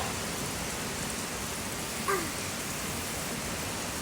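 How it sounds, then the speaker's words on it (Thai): Heavy rain pours down steadily during a family rainy day at home, a dense, even hiss of drops that holds at the same level throughout, with a brief faint chirp or yelp cutting through for a moment partway in. "โมฝนตกฝนตก"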